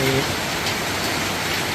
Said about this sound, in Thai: ก็เหตุการณ์คุณฝนมาเยี่ยมวันนี้